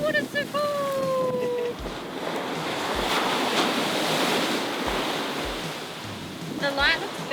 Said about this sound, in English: we're working with fast moving water